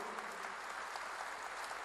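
A church congregation applauding during a sermon, giving a faint, distant, even roar of many hands clapping that carries steadily throughout.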